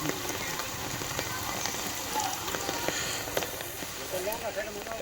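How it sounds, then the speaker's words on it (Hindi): Heavy monsoon rain pours down in Shajapur, Madhya Pradesh, a steady dense hiss of drops striking surfaces that holds throughout, with scattered louder splashes. "मध्य प्रदेश और छत्तीसगढ़ में तेज बारिश का सिलसिला लगातार जारी है।"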